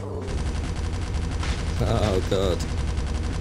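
A P90 submachine gun rattles in rapid automatic bursts in Call of Mini Zombies on iOS, loud and steady beneath a man's brief spoken exclamation.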